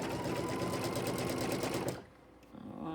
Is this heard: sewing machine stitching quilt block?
yes